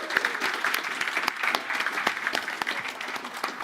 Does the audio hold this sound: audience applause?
yes